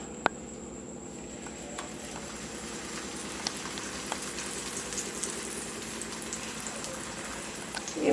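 A rolled garlic laccha paratha frying in a kadai, giving a continuous soft sizzle and bubbling of oil at moderate level, with a few faint clicks and no speech.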